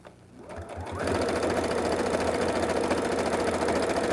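A sewing machine stitching a fabric zipper pouch starts up after a moment and then runs in a fast, steady mechanical chatter, close and alone.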